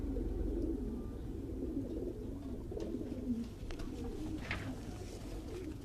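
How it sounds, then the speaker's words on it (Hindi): White Meerut pigeons coo softly in a low, continuous murmur throughout, fairly faint and steady, with a few small background clicks. "ये वाइट मेरठ वाले कबूतर हैं जी"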